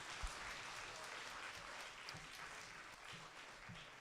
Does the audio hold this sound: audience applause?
yes